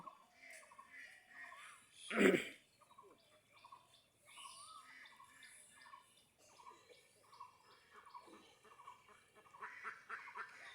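Ducks quack around a fish pond, a sharp loud call near the start followed by scattered quieter quacks and outdoor background noise.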